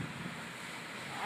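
A faint, steady wash of sea water surges during a tidal surge at Khambhat, with a continuous rushing sound and some wind-like noise, no distinct individual breakers.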